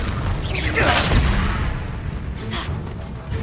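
Confringo fire-blast spell going off in the Hogwarts Legacy video game, a broad burst swelling to a boom around the middle amid continuous combat noise, with a voice talking over it.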